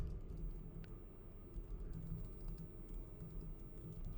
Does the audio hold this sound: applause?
no